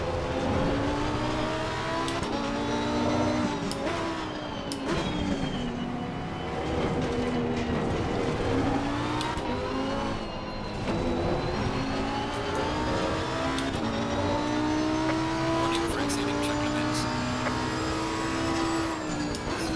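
Porsche and McLaren race cars in Assetto Corsa Competizione at the Nurburgring, engines screaming and shifting through gears for the whole stretch, pitch climbing and dropping repeatedly, loud and close with no voices.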